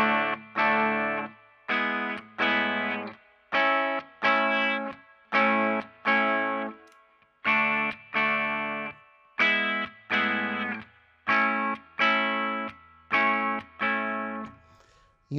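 Acoustic guitar run through a Fishman preamp on the voice two setting, strummed in a steady repeating rhythm of bright chords, each decaying before the next, with a slight processed sheen; close and alone without talk.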